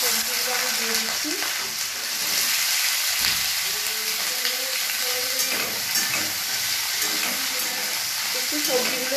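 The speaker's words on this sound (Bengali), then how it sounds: "পাঁচ ফোড়নটা দিয়ে দেখো এই সবজিগুলো আমি দিয়ে দিচ্ছি।" Vegetables frying in hot oil with panch phoron in a pan while a Bengali dinner is cooked, giving a steady close sizzle with occasional stirring scrapes throughout.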